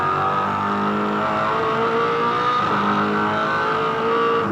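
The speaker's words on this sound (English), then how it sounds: "It's great to listen to these cars." V8 Supercars race at Eastern Creek Raceway in 2005, with loud engines accelerating and revving hard near the track, pitch climbing and shifting through the gears in a continuous roar.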